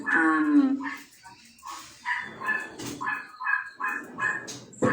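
A dog gives a drawn-out, whining whimper, then a run of short, choppy yips and barks, all close and fairly loud.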